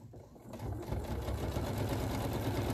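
Close sewing machine running steadily as it stitches binding onto an art quilt, a fast even mechanical whir and rapid needle clatter that continues without pause.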